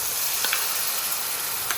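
Tomato puree sizzles and hisses steadily in hot oil in a pan while a prawn curry cooks. The frying noise fills the whole clip, with a few faint stirring ticks and no talking.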